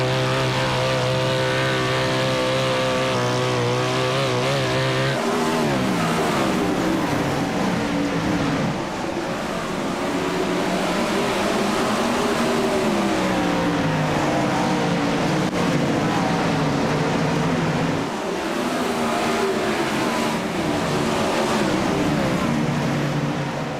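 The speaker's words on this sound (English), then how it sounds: "Let's go ahead, crank it up, and listen to that 410 sprint car." A 410 sprint car engine roars on a dirt track in a racing game, a loud sustained drone with rising and falling pitch as revs climb, drop and climb again.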